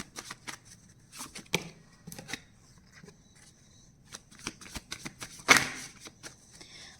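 Tarot cards are shuffled in the hands with soft riffling and flicking bursts, faint and close, scattered unevenly with a louder snap near the end.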